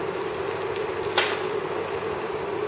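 Oil sizzles in a pan as a vegetable filling for Bengali patisapta fries, a steady even hiss with one brief clack near the middle.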